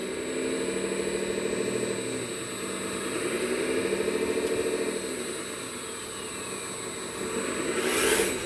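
A small RC wheel loader drives in with a steady electric whine that rises and falls in pitch as it moves, close and continuous, with no talk.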